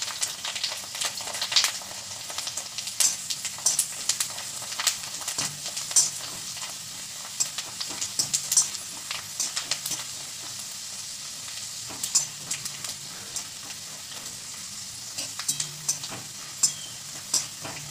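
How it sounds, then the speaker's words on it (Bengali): Papad fries in hot oil with a dense, steady crackling sizzle, close and even throughout, broken by scattered sharper pops and the occasional stir. "সব প্রথমে ভাজবো আমি পাঁপড়টা।"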